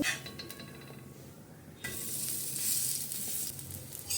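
Cassava dosa batter fries in a little coconut oil on a pan, a quiet crackling sizzle that jumps louder as the batter hits the hot surface and stays steady, with no one speaking.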